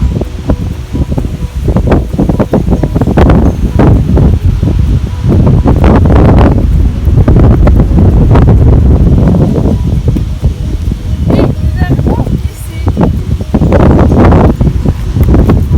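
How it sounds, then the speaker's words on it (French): Heavy wind buffets the microphone continuously, producing loud, rumbling gusts and rustling bursts with no voices. "Désolé pour le vent."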